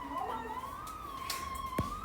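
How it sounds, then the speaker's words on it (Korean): An ambulance siren outside wails in a steady, slowly rising and falling tone, faint and distant throughout the short stretch, with a few small clicks and room noise around it. "구급차인데? 구급차예요"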